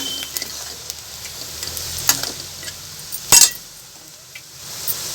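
Onion fries with turmeric in a pan, giving a soft steady sizzle under light stirring, with a few sharp clinks of a spoon against the pan.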